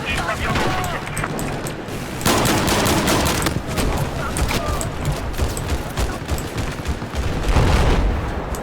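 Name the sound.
shotgun firing in video game Battlefield 4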